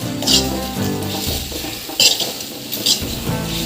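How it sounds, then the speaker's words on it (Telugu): Okra and tomato curry frying in oil with onion, green chilli, ginger, garlic and turmeric, heard as a steady close sizzle with repeated scrapes and clinks of a spoon stirring against the pan. "ఆయిల్ వేసి ఉల్లిగడ్డ పచ్చిమిరపకాయలు టమాటా అల్లం వెల్లిపాయ పసుపు అన్నీ వేసి మళ్ళీ ఫ్రై చేసుకోవాలి"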